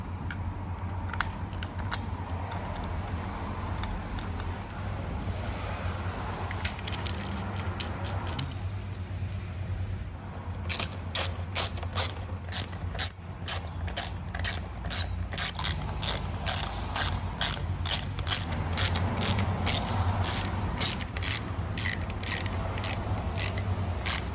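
A hand ratchet turns bolts on the front A-pillar trim of a 2011-2019 Ford Explorer, giving quiet close clicking that becomes a fast, steady series of sharp ratchet clicks over the second half.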